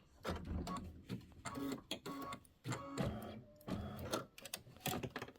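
An embroidery machine stitches a Kimberbell 22-inch Thanksgiving pillow design with a rapid, rhythmic, mechanical chatter that rises and falls in short, uneven runs.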